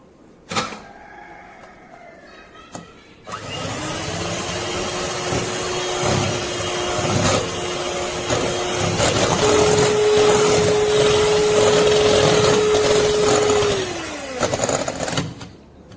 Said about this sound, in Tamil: மூணு எக்கையும் பீட் பண்ணியாச்சு.